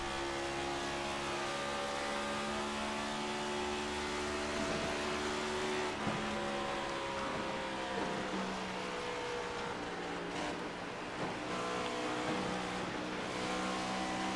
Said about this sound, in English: You can really hear him pedal it out of the throttle.